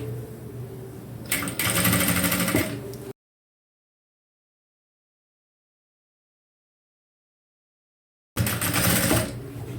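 A sewing machine stitches a dress seam in two loud, steady whirring bursts of a couple of seconds each, with a long stretch of complete silence between them and a softer hum of fabric handling before the first.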